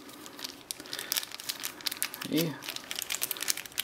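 A plastic bag crinkles and rustles as a parcel holding a 1991 Soviet one-ruble coin bought at auction is unwrapped by hand, a steady close crackle under quiet talk.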